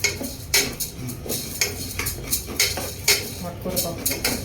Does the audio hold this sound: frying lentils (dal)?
yes